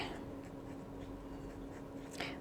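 A fountain pen with a 1.1 Anderson nib and Parker Quink Blue Black ink writing on paper, giving faint, soft scratchy strokes in a steady rhythm against a low background hum.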